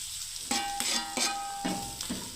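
Semolina sizzling as it is stirred and fried in a pan, a steady crackling hiss broken by several rhythmic scraping strokes, close and fairly quiet with no talk.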